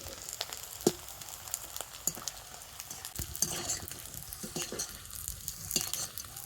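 Sago pearls fry in hot oil with a steady, soft crackling sizzle, broken by sharper pops and the occasional clink of a utensil, fairly close and without voices.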